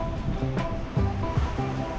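Waves slosh and splash against the hull of a sailing yacht bashing upwind across the Atlantic between the Azores and Gibraltar, with a steady rush of water and wind and a couple of sharper splashes.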